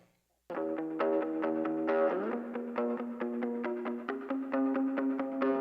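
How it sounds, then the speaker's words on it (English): Distorted electric guitar chords ring out with a wide, spacious reverb tail panned hard left and right, strummed steadily in a loud, continuous passage. "I'm going to take this reverb and pan it all the way right."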